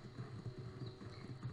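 Horse hooves clip-clop in a video game, a quiet, even walking rhythm of soft thuds repeating several times without talk.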